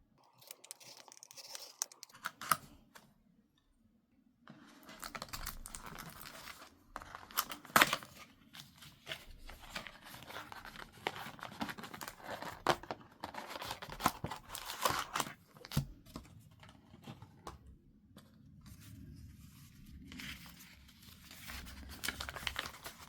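Pokémon Paper Theater package being opened at close range, with quiet, irregular crinkling, tearing and rustling of paper and plastic wrap, alone and faint.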